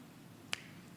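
One crisp finger snap rings out midway through near silence, sharp and brief with a quick decay.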